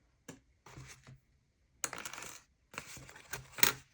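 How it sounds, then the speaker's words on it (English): A glue stick rolls away across a tabletop in a few short clattering bursts, a light rattle then two louder rolling scrapes separated by pauses, close and alone with no talk. "My glue already rolled away"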